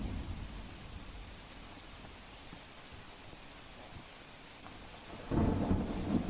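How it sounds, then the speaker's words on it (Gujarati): Heavy, continuous rain pours down with thunder during widespread rainfall and waterlogging in Bhavnagar district, Gujarat, a steady dense hiss that swells louder near the end as a rumble rolls in. "આ દ્રશ્યો અવિરત વરસાદ અને તેના કારણે આ વરસાદ હવે આફતનો વરસાદ લોકોને લાગી રહ્યો છે"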